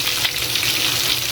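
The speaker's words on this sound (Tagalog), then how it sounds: "Baliktarin ko na pala guys yung ating meatballs." Meatballs turning golden brown as they fry in a pan of oil, with a steady, dense sizzle and crackle that carries on without a break, close and fairly loud, and no one speaking.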